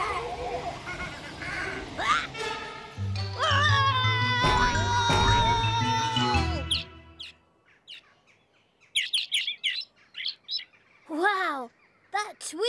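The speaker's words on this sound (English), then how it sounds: "that tweeting is really loud when you hear it through the trumpet" Loud, piercing bird tweets heard through a trumpet in a children's cartoon come in a burst of chirps, while children's voices and music play around them.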